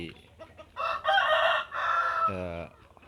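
A rooster crows loudly and close from a home chicken coop during a morning release, a long drawn-out call with a rough trailing end, preceded by a few short clucks.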